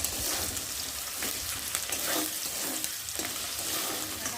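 Garlic, ginger, chopped green chili and spices frying in a pan, heard as a loud, dense sizzle close up with occasional scraping stirs and no voices.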